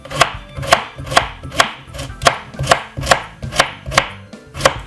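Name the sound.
knife slicing cucumber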